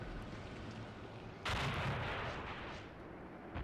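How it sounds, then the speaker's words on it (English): A 152 mm tank cannon fires in the Eastern Front battle game Graviteam Tactics Mius Front, a single loud booming blast that rolls off into rumble over continuous battlefield noise, with no talk. "that 152 millimeter cannon will shred this tank"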